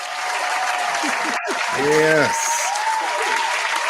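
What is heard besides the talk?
audience applause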